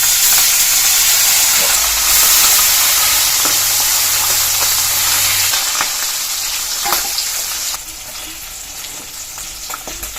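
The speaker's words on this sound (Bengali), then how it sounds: "তেল গরম হয়ে গেছে, এবার মাছগুলো ভেজে নেব।" Pabda fish frying in hot mustard oil in a pan, a loud, dense, continuous sizzle and hiss with faint crackles, easing slightly toward the end, no voices.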